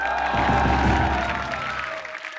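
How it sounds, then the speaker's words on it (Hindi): A studio audience on a comedy show applauds and cheers loudly, the clapping swelling in under a sustained musical tone and then tapering off. "जोरदार तालियां।"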